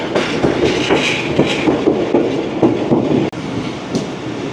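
A train on the Faisalabad to Rawalpindi line approaches Jhelum railway station, with loud, close rail rumble and rhythmic clickety-clack of wheels over track joints and a sharp clunk near the end.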